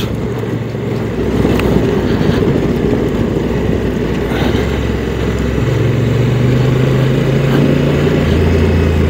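A 2022 Honda NT1100 DCT motorcycle engine drones steadily and loudly at close range while riding, with a low rumbling hum and slight shifts in pitch, alone without talk.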